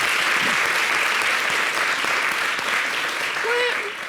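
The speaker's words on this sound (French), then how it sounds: "Il faut applaudir pour les femmes policiers" Audience applause for women police officers at a televised event, a steady wash of clapping held at an even level, with faint voices mixed in and a brief tonal squeak near the end.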